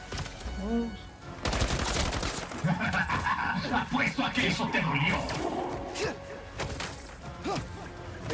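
Gunfire from the Spider-Man 2 video game, a dense run of shots and bursts through most of the clip, mixed with crashes and thuds under game voices.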